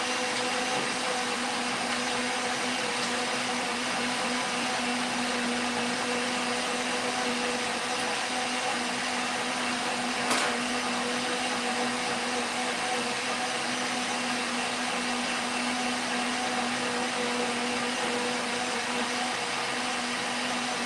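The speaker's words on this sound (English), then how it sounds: "we place it small bit in the blender, and now I will make a noise for 30 seconds" Blender pulping small pieces of paper, a loud steady whir running continuously and close at hand for about twenty seconds with no talk over it.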